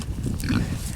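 A pig on a small farm grunts and oinks in a low, continuous snuffling burst, close by and fairly loud, with no talk over it.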